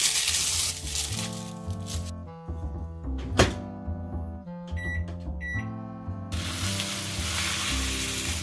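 Coto milanesas fry in a pan with a dense, steady sizzle that drops back midway, where a thunk and faint humming tones stand out, before the full sizzle returns.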